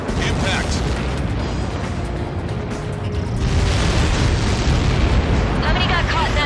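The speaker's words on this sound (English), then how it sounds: "How many got caught in that explosion?" A massive explosion in the Ace Combat 7 flight combat game, a dense, loud roar of blast and rumble that fills the whole span and swells slightly louder midway, with no pause.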